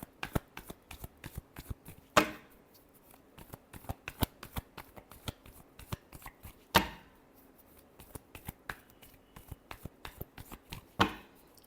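A deck of tarot cards is shuffled by hand in a steady rapid patter of soft card flicks, with a few sharper taps where the deck is squared or cut, close and fairly quiet.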